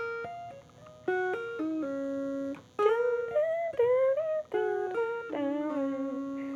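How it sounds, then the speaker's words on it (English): A tapped riff played on the two high strings of a guitar: a clean, quiet string of sustained single notes with crisp attacks and some sliding pitch changes, heard alone. "So for this tapping section, it sounds like this."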